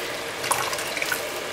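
Water drains and trickles as cooked spinach for a stew is pressed and strained in a kitchen, a steady close splashing flow lasting a moment.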